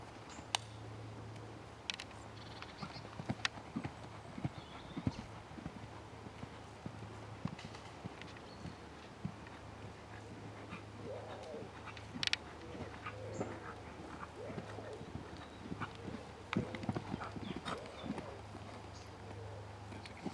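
Hooves of a horse in training cantering and pulling up: a steady stream of soft clip-clop hoof falls on ground, with a low constant hum beneath and a faint voice speaking at times.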